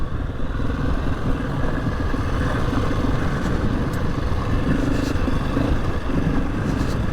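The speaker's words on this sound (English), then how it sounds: "There's not much engine braking on these bikes," A motorcycle engine runs steadily and loudly throughout while the bike descends the Old Coach Road, a rough downhill trail in the Lake District, with a continuous low rumble and some faint clatter.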